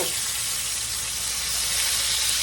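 Chicken fried steak sizzles in a cast iron pan, a steady loud bright hiss of frying oil with no pauses and no talking.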